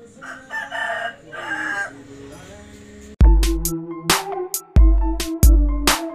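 A rooster crows in a drawn-out, wavering call. Loud, abrupt bursts of sound follow close by, each one starting sharply and then fading.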